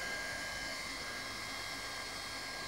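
A hot air plastic welding gun set to about half power runs with a steady, continuous airy blowing hiss and low fan rumble, close and constant throughout without any talk.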